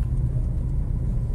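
Inside a new WagonR car on the move, a steady low engine and road rumble fills the cabin, even and unbroken, with no talking.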